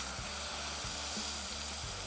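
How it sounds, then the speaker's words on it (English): Sugar-free cola being poured into a cooking pot fizzes with a steady close hiss of bubbles, continuous throughout with no talking. "Listen to the fizz."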